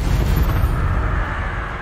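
An Incendio fire spell cast in Hogwarts Legacy bursts out as a loud, close rumbling whoosh of flame that holds for about a second and then tapers into a softer roar, with no voices.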